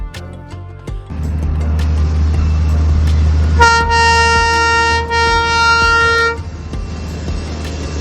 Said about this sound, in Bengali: টয় ট্রেনের দেখা তো আপনার মিলবেই